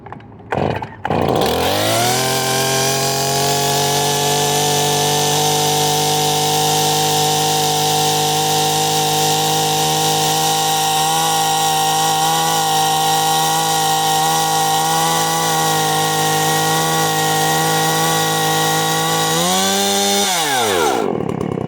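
A Stihl MS170 chainsaw fires up, rises to a loud, steady high idle that holds for nearly twenty seconds close by, then winds down and sputters out at the end.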